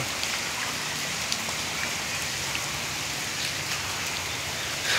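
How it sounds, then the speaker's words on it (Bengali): Heavy rain pours down steadily in Konabari, Gazipur, a dense, constant hiss of drops drumming on surfaces with no pauses and no voices. "এই বৃষ্টি মনে হয় না আর যে থামবে"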